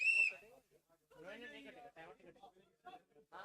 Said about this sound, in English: Blow the whistle out.